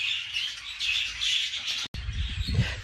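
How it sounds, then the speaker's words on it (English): Budgerigars chirp steadily in an indoor bird room holding over a hundred birds, a dense, continuous twittering chorus with a brief dropout near the end, followed by a low thump. "I have 152 currently in my bird room, 33 of which are babies"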